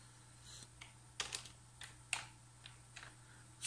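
Quick bursts of keystrokes on a computer keyboard while entering a web address, faint and close, a few clustered clicks with short pauses between them over a low steady hum.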